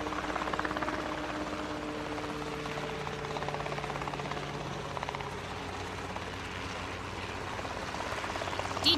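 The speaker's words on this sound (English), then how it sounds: "Did you kids notice the gyrocopter?" A gyrocopter drones steadily in flight with a continuous buzzing engine hum, fairly loud and unbroken throughout.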